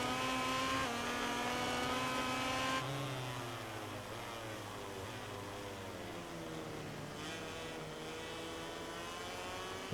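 Racing motorcycle engine in MotoGP 18, with a high, steady whine rising in pitch as it accelerates and shifts through gears, continuous and prominent throughout a wet-weather race.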